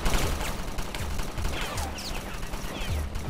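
Rapid bursts of gunfire crackle from a squad in the tactical strategy game Satellite Reign, overlapping shots popping densely and continuously at close range through the whole moment.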